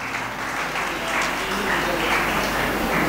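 An audience at a school achievement event claps, a dense, even run of applause that swells slightly toward the end, with a low hum underneath and no voices over it.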